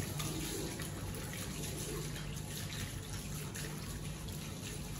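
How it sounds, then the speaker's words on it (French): Hands being washed under a running tap, a steady close rush of water with faint splashing, continuous and without talk. "Je vais d'abord me laver les mains."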